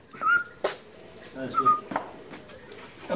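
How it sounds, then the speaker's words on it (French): A small dog, a cavalier or cocker spaniel, whimpers in short high whines, close by, with a person talking softly between the whines. "Mon petit chien, gentil, regarde-moi ce petit chien."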